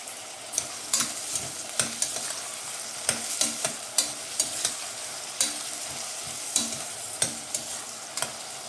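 Tomatoes fry in a pan for a tamarind-leaf mutton curry, with a steady sizzle broken by repeated scraping clicks of a spoon stirring, close and fairly loud, no talking.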